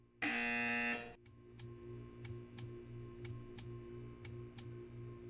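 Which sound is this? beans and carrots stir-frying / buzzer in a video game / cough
buzzer in a video game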